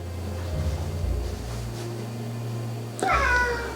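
A house cat named Lumi lets out a single clear, close meow near the end, following several seconds of quiet low room hum with no talking.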